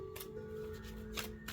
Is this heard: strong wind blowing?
no